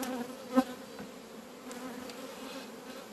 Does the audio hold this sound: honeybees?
yes